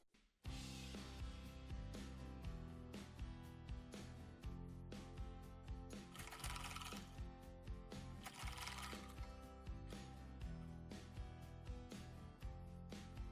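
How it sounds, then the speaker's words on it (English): A sewing machine top stitches a ruffle headband, running with a steady, dense mechanical whir and rapid needle clatter, close up. "then top stitch, just to make sure that the sewn part is not visible"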